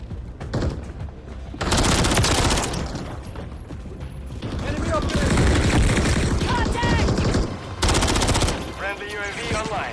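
Gunfire in Call of Duty: Modern Warfare III on PS5, with loud rapid automatic bursts that start and stop, mechanical weapon handling sounds between them, and a player talking under the shooting.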